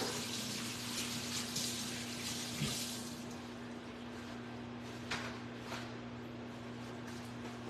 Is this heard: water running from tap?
yes